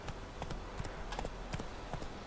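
Horse hooves clip-clop at a brisk, steady rhythm as a mount is ridden in The Witcher 3, a run of sharp, fairly close hoof strikes over a constant background bed.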